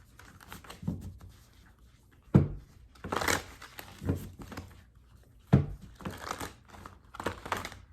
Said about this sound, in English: Having a hard time shuffling.